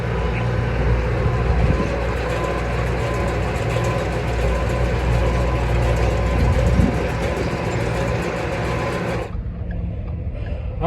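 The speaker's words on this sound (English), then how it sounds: "this is my first time using the F-150, pulling a full wagon of hay" A Ford F-150 in four-wheel-drive low pulls a full wagon of hay, giving a steady low engine drone with rumbling wheels that runs loud for about nine seconds, then drops away abruptly.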